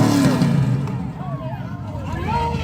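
A two-wheel-drive racing truck at a motocross-style bounty race revs hard near the listener, with a steady loud engine roar and rising, falling pitch sweeps, while a voice talks over it.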